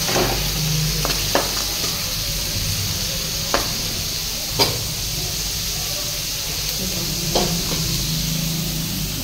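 Onion fried in oil for a whole masoor dish, a continuous bright sizzling hiss with occasional sharp clinks of a spoon stirring in the pan, steady and close, with no voices.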